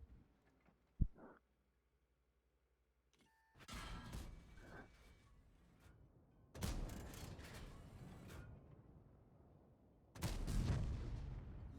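Tank cannon fire in an online tank battle game: a few heavy, booming shots with sharp onsets and rumbling tails, spaced several seconds apart among quieter mechanical noise, without talk.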